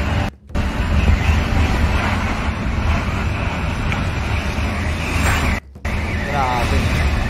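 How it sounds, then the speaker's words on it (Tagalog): Strong hurricane wind roars and buffets the microphone with a rough, continuous rush, briefly cutting out twice, while a person speaks faintly beneath it. "Sumisipol yung hangin no?"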